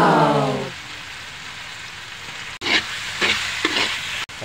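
Meat added to sautéed tomatoes in a hot pan, a loud sizzle that breaks off, then returns with bursts of stirring and crackle, close up.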